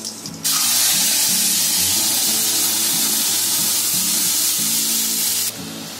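Tomato gravy hits hot oil seasoned with whole spices in a pan, bursting into a loud, steady sizzle that holds for several seconds before easing off, with no talk over it.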